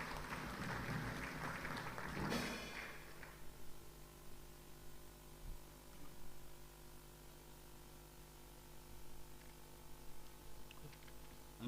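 An audience at a Nigerian Navy stripes ceremony applauds a rear admiral: a burst of clapping for about three seconds, faint and distant, then fading into quiet room noise.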